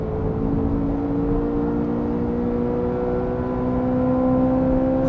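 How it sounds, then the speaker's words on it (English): Chevrolet Corvette supercar engine held at full power in second gear on a race track, a loud, steady sustained roar with a rising harmonic whine throughout, heard from inside the car. "Full power, full noise in 2nd gear."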